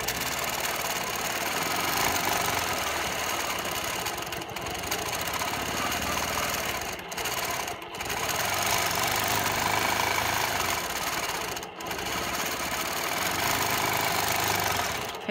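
Sewing machine stitching feathered swirls in free-motion quilting, a steady fast mechanical hum and rattle running nearly unbroken, with a few brief pauses.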